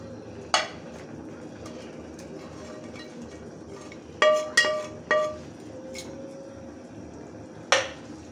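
A metal spatula scrapes and clinks against a pan while small bele fish are stirred into a pea and potato curry, with a few sharp isolated clanks over a soft, low simmering background.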